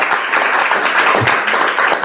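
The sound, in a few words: audience applause after a lecture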